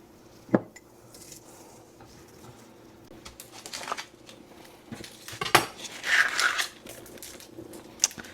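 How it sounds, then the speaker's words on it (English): A knife knocks against a cutting board in sparse, irregular chops of onions, with pauses and a brief rustle between strikes. "I might have to take some breaks during this onion chopping session."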